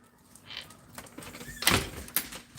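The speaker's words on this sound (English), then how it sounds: "Come on, you can't open the door this morning." A door is opened with a short scraping slide and a couple of sharp clunks near the end, close by, after a stretch of quiet room noise and faint scattered knocks.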